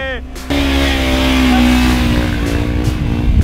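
A Kawasaki 300 motorcycle engine revs while being ridden, a close, loud, steady drone that rises and holds its pitch over a few seconds, with a voice briefly heard at the start.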